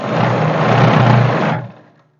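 An electric sewing machine runs a straight seam on a salwar in one steady, loud, close burst of fast stitching lasting about a second and a half, then winds down and stops.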